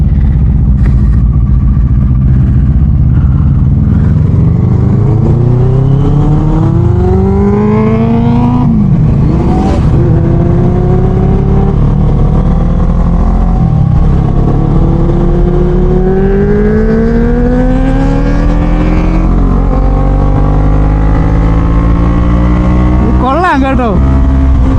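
A green superbike engine screams close and loud as it accelerates past 100 km/h in third gear, pitch sweeping upward through repeated gear climbs on a Sunday group ride, with a rider's voice talking over it.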